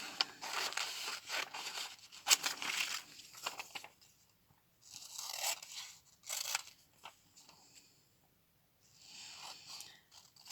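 Paper mushroom stamps being cut out with scissors, giving soft, close snipping and rustling strokes in several bursts separated by brief pauses.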